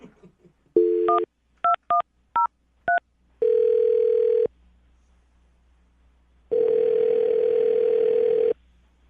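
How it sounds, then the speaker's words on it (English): A steady landline phone dial tone, then a quick series of separate touch-tone beeps, followed by two longer ringback tones with a pause between them. "I'm going to dial the phone number right now"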